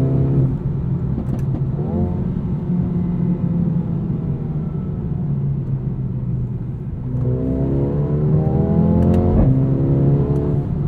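A 2020 Mercedes-AMG A35 sedan's engine revs up in its most aggressive drive setting, loud and close throughout, rising in pitch twice, with sharp exhaust pops cracking near the end and no talking.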